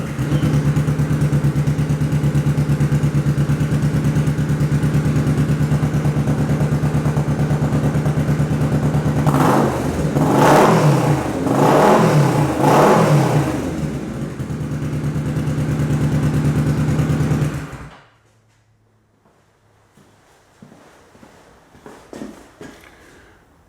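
Kawasaki Vulcan S motorcycle fitted with a Musarri exhaust, held at high revs around 5,000 rpm: a loud, sustained engine roar with a few surging pulses near the end, then a sudden cutoff to quiet with faint rustling.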